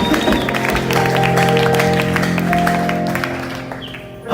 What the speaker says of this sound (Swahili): patia Bwana makofi mazuri